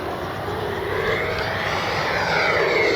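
An E-flite Viper 90mm electric ducted-fan RC jet passes at full speed, a loud steady whooshing whine with a slight pitch shift as it flies by, heard alone.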